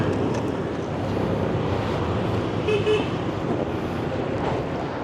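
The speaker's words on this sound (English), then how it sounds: "I thought people were honking at me because, you know, that's what people do in Vietnam." Traffic in Vietnam with a short vehicle horn toot near the middle, heard over a dense, steady roar of motorbikes and road noise.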